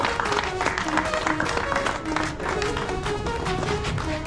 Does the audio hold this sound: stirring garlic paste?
no